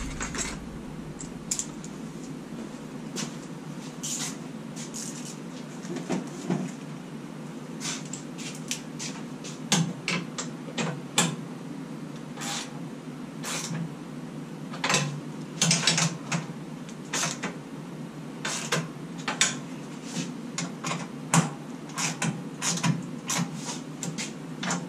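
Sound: working with a socket wrench on a Jeep

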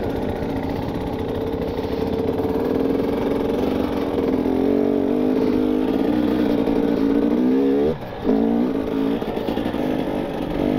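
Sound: enduro motorcycle engine while riding

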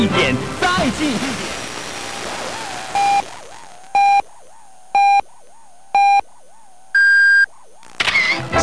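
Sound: radio station hourly time signal beeps

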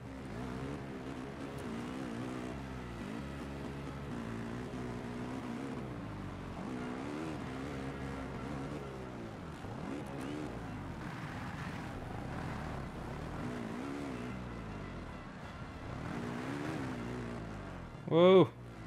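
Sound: motocross bike engine in MXGP video game

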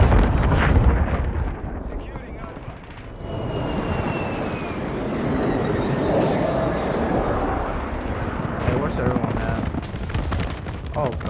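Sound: explosions in video game Modern Warfare II

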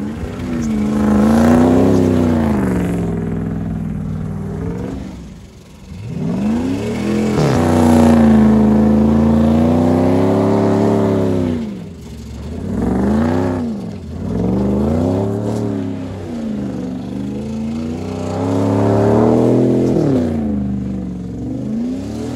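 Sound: Dodge Dakota truck revving while doing donuts

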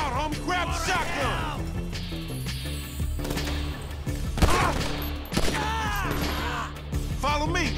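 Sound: shotgun gunfire from a video game

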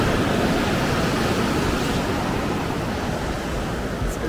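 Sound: ocean waves on the Big Sur coast

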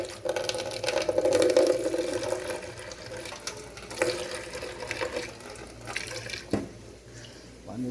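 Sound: water running in a kitchen

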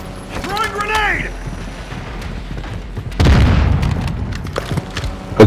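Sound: grenade explosion in a video game (Call of Duty Warzone)

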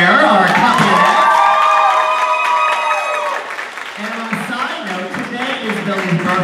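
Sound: thunderous applause and cheering from a concert audience

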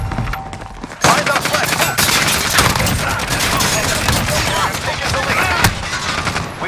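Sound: gunfire in Call of Duty: Modern Warfare video game

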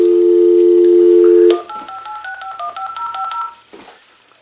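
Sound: telephone dialing tones on AT&T EP5995 speakerphone

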